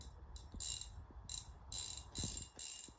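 An Endura 6000 spinning fishing reel cranked by hand in several short bursts, each a close, bright ratcheting whir separated by brief pauses.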